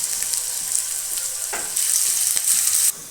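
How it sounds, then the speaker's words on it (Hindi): Potatoes frying in hot oil with ginger and chili, an early step of fenugreek kadhi, giving a steady close sizzle with brief stirring scrapes. "आलू थोड़ा क्रंची होने तक हम इसको पकाएंगे।"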